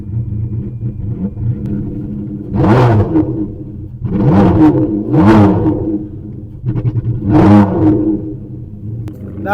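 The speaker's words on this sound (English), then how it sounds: "I don't know what exhaust system this has got, or if it's got something missing on it, but it sounds absolutely incredible." A Ferrari 599 V12 with some exhaust outlet pipes missing revs hard three times, each blip rising into a loud raw roar then dropping back to a rumbling idle, close by.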